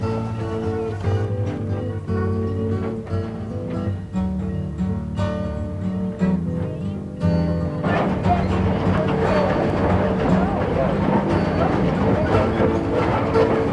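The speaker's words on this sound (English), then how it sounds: "the clickety-clack of the tracks, the creaking of the cars" A passing train rumbles on the rails with rhythmic clacking and squeals, loud and near, the clatter growing busier partway through.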